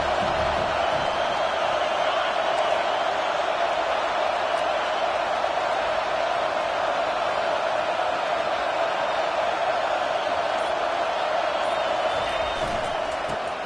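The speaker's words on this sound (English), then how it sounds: "This crowd trying to make life miserable for this offense." A packed football stadium crowd roars in a steady, dense wash of noise for the whole stretch, loud and unbroken, with faint shouts and no clear talking.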